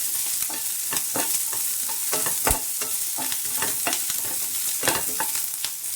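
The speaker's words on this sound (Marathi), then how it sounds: "कढईमध्ये त्याचं भाजून घालायचं थोड्याशा भाजत आल्या की लसूण दहा बारा घेतले पाकळ्या त्या घालायच्या" Green chillies and a dozen garlic cloves roast in oil in a kadhai for thecha, with a continuous crackling sizzle broken by frequent sharp scraping strokes of a spatula. There is no talking.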